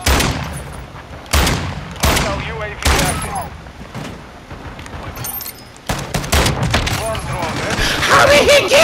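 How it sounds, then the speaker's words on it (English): Heavy shotgun blasts from the Expedite-12 in a first-person shooter, several sharp booming shots in uneven bursts around game noise, with someone talking excitedly over the action. "How did he get me?! Oh my god, what kind of shotgun is that?!"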